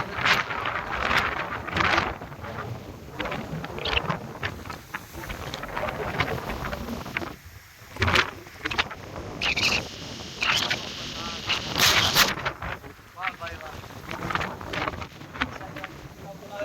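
Strong gusting wind ahead of a rainstorm in open country, loud buffeting roar against the microphone throughout, with a person talking over it.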